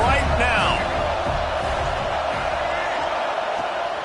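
Stadium crowd in College Football 26 during a game, a broad continuous roar of cheering with a brief whistle-like whoop near the start, steady and loud throughout.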